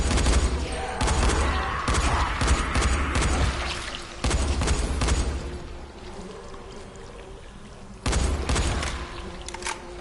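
Shotgun fire in the video game Dying Light: loud, close blasts mixed with rapid gunfire, arriving in three dense clusters separated by brief lulls, with no talking.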